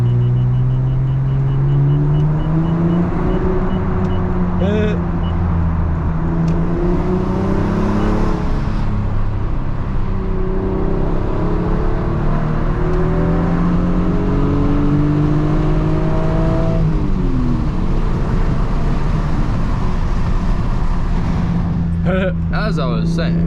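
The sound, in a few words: Lexus SC300 2JZ-GE car driving through tunnel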